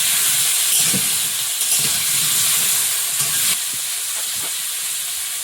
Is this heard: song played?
no